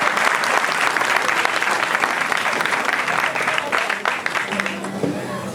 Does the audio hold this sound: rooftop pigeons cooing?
no